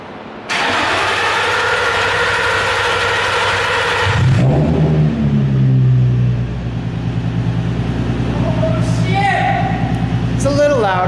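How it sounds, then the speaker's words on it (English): A Nissan 350Z with test pipes and a catback exhaust cold starts with a sudden crank and catch into a loud, rough idle, then revs up and settles into a burbling idle with another rev near the end, while people talk nearby. "Cold start with test pipes and NVIDIA catback exhausts."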